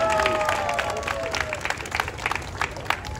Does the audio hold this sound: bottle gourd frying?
no